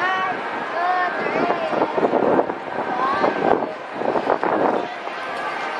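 Strong gusts buffet the microphone on an Osaka street outside a hotel, a rough roaring rush that swells and eases in waves while someone talks over it.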